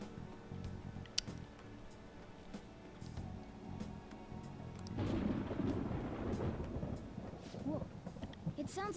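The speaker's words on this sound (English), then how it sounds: "It sounds like it's going to rain." Thunder rumbles in the Persona 5 Royal video game ahead of rain, a low rolling growl that swells midway and lingers beneath game ambience and light background sounds.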